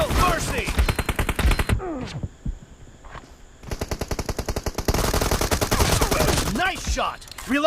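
Rapid automatic bursts from an M416 assault rifle in a two-versus-two team deathmatch video game, loud and close, with several sustained strings of fire broken by a short lull and sharp single reports.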